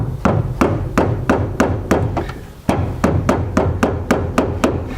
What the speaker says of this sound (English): take a flathead and then a hammer and just hammer this counterclockwise to try and get it loose.